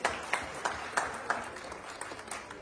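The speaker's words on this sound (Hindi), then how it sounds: "ऐसे दोनों शख्सियत को आज तालियों से स्वागत कीजिए।" An audience at a journalists' gathering applauds to welcome two guests, fairly faint scattered clapping with a few distinct louder claps near the start that thins out toward the end.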